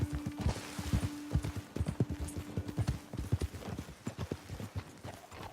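Horse hooves clip-clop in a quick, steady rhythm close by, several animals moving together at a brisk pace, in the video game Red Dead Redemption 2.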